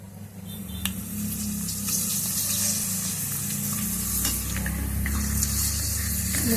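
Homemade poha papad crackles and sizzles in hot oil, a steady close frying hiss with sharp pops and bubbling bursts scattered throughout.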